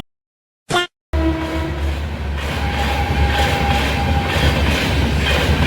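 A train rolls past, opening with a brief sharp horn blast, then a loud, sustained roar of wheels and rail clatter that builds and holds close by, with no talking.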